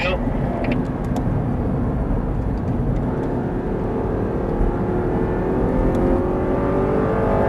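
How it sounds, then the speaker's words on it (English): An Audi R8 engine accelerates on Sonoma Raceway, a loud, continuous roar with rising engine pitch heard from close by, carrying on steadily throughout with no pauses. "Continue accelerating, stay with me here."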